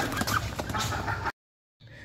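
Chickens cluck in a busy, noisy jumble, then the sound cuts to silence for a moment before faint clucking returns.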